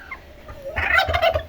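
Pet turkeys gobble in a burst of rapid, warbling calls after a quiet start, close and fairly loud, on a rainy day at a rural home in Bohol.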